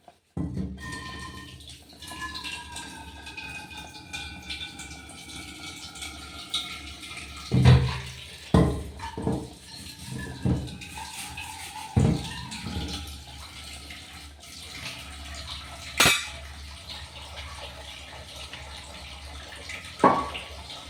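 Water running and splashing while a cooking vessel is washed in a kitchen before roasting cashews and raisins, with intermittent clanks and sloshes over a steady faucet stream, fairly close and moderately quiet.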